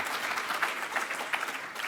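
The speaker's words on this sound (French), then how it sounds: "Oui, vous pouvez vous applaudir." An audience at a French study-day panel session applauds, a short, dense burst of clapping heard steadily from start to finish.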